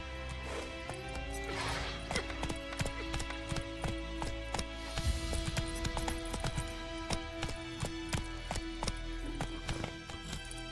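Hooves of Roach, the horse in The Witcher 3, clip-clop steadily at a gallop under a dense, continuous game music score, with the rhythmic hoofbeats fairly close and moderately loud throughout.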